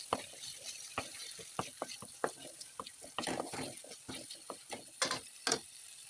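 Green chilies fry in a pan for methi dal, with sharp intermittent crackles and spatters popping irregularly over a quiet background, close and fairly faint.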